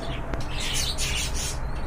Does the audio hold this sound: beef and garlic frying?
no